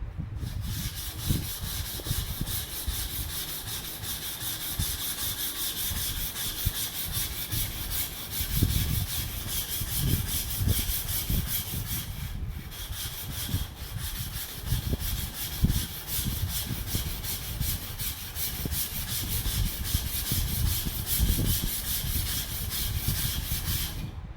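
A knife blade ground on a sharpening stone to reprofile a damaged tip, with steady, close rasping strokes repeating without pause and a brief break midway.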